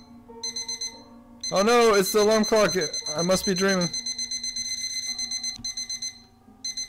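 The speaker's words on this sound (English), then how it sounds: "What's that sound? Oh no, it's the alarm clock." Electronic alarm clock in The Brave Little Toaster video game rings with steady repeating beeps, loud and continuous through the clip, with a voice talking over it partway through.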